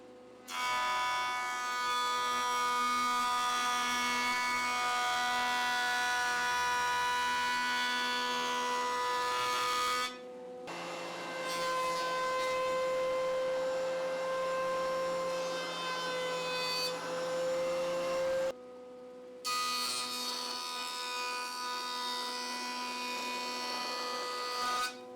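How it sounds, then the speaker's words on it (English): Loud, continuous machining as pieces of wood are run over a jointer and through a planer while building a Moxon bench vise, with a sustained whine and cutter roar that break briefly between passes, close and without talk. "let's run them over the joiner, run them through the planer, get them flat"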